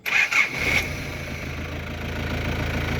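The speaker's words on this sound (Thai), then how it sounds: "เดี๋ยวผมจะลองสตาร์ทรถนะครับ เปิดกุญแจออนนะครับ" A Nissan Big-M D21 Hardbody pickup engine cranks briefly with a couple of quick starter whirs, then catches and settles into a steady, close idle.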